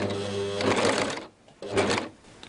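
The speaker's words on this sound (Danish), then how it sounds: "så lægger jeg mit stof ind og syr lige til at få fat i stoffet lige med et par nålestik her" An overlocker serger stitches into fabric in two short, fast mechanical bursts of whirring and clattering, close and fairly loud, separated by a brief pause.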